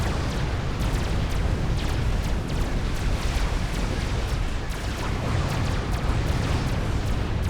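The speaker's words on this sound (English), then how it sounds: "Another bombing run takes that megalith deep into the red, and hit points just falling off it." A strategic bomber run in Supreme Commander pounds a megalith with a dense, continuous roar of explosions, loud and unbroken from start to finish.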